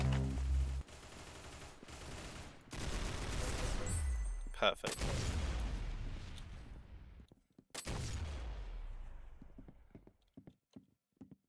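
Gunfire in a Roblox game crackles in rapid bursts of sharp shots, with sudden stops and quieter pauses between volleys, and a few isolated shots near the end; a voice can be heard now and then.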